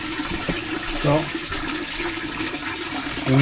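Water swirls and gurgles steadily down a partly plugged laundry sink while the tap keeps running, a close, continuous rushing wash with a faint voice underneath.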